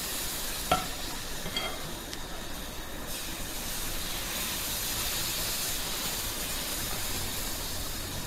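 Rava dosa batter, ladled onto a smoking-hot tawa, sizzles with a steady bright hiss, a few soft clinks of the ladle near the start, then an even crackle that holds throughout.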